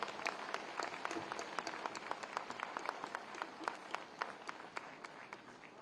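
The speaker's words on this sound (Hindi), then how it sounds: "जोरदार तालियों से उनका स्वागत करिए" Audience at an annual conference of a self-financed school managers' association in Lucknow claps during a magazine release, a steady stream of crisp, separate hand claps that stays fairly faint and distant for about six seconds.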